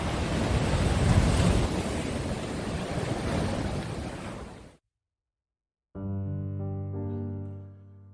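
Sea waves break on rocks along the Samcheok Haeparang coastal trail, a loud, rushing wash of surf with wind. It cuts to silence, then sustained musical tones.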